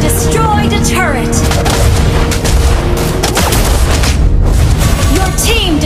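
Turret destruction in the Mobile Legends (MLBB) video game, a dense loud stretch of booming blasts and layered game effects with bursts and chirps running continuously throughout, with voiced game announcements mixed in.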